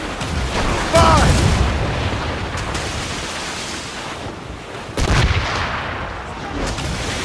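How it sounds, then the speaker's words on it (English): Ship cannon fire at sea in Assassin's Creed Rogue: two heavy booms several seconds apart over rushing wind and surf, with faint shouting voices. "They're firing on us, sir!"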